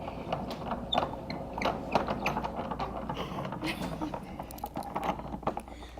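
A hand-cranked honey extractor spinning, giving a steady mechanical whir with ratcheting, gear-like clicks and faint creaks, with people talking nearby.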